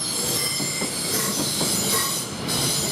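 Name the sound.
Class 700 train at Shenfield station heading to Liverpool Street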